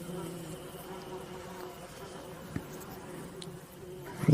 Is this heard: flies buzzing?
yes